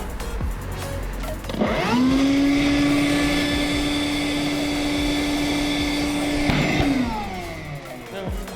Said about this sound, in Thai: เสียงตึ้งเมื่อกี้ไม่ต้องตกใจนะครับ เป็นเสียงการทำงานของฟิลเตอร์ทุก ๆ 30 วินั่นเอง